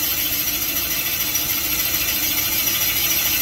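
A boring tool cuts an interrupted, uneven chamfer in a Little Red Express 360 engine cylinder, giving a steady, loud machining whir with a faint periodic chatter and no talk.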